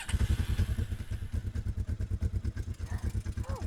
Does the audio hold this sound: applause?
no